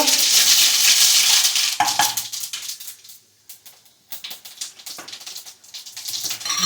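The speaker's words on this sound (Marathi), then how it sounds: "फोडणी घालूया जिरं मोहरी हिंग" Loud hissing sizzle as cumin, mustard seeds and asafoetida hit hot oil, fading briefly before crackling and spattering pick up again.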